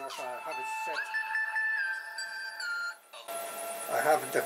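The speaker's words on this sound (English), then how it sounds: "That's just my phone going off." Phone alarm going off near a 3D printer, a bright electronic melodic chime of rising and sliding tones, fairly close, changing to a different buzzy tone pattern in the last second, with no talking.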